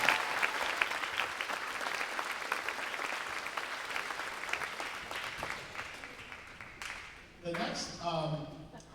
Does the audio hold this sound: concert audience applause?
yes